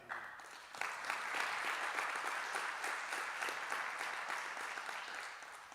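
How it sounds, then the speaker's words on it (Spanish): Congregation applauding during a church service, a crisp burst of many hands that starts suddenly, stays full and even, then slowly tapers. "Vamos a darle un aplauso al Señor."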